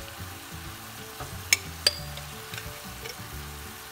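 Chicken frying in a pan for buckwheat with tomato, a soft steady sizzle under repeated low scraping stirs and a couple of sharp utensil clicks, close and fairly quiet, no talk.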